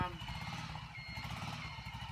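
A 200cc Hunter ATV engine runs close by at its first start, with a low, fast, pulsing thump that keeps a steady rhythm throughout.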